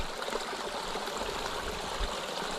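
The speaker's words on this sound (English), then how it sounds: "you can see water running through the planks, the broken plank" Water runs through broken wooden planks on Tasmania's Overland Track, a steady close rush of trickling and splashing that continues throughout.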